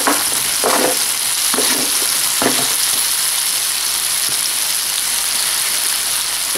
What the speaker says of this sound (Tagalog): So, ilagay na natin ang kalabasa kasi matigas ito.